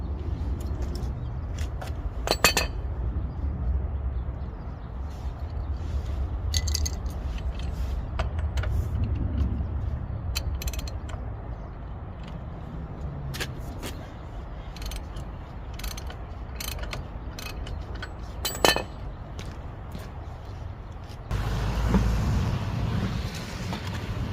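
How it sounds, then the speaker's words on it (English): A 3/4 inch drive ratchet with an adapter loosening the axle nut on a 2009 Chevy Cobalt, heard as scattered sharp clicks and ratcheting over a steady low mechanical background, with a louder rumble near the end. "I'm using a 3/4 inch drive ratchet with an adapter"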